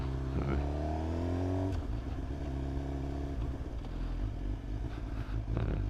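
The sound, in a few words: Suzuki GSX-R 750 motorcycle riding at slow speed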